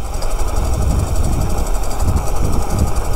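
An electric mini bike's motor runs wide open at half power, giving a loud, continuous rushing drone with a fast rumbling pulse underneath that holds steady throughout.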